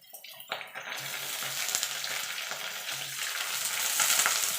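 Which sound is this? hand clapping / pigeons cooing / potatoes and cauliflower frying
potatoes and cauliflower frying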